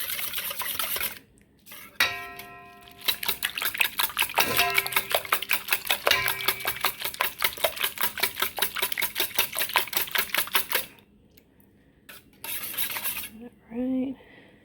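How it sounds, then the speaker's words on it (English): A whisk beats a French toast bake mixture in a bowl with fast, steady metallic clinking that runs for several seconds, pauses briefly, and then resumes in a short final burst. "I'm just going to go ahead whisk the heck out of this."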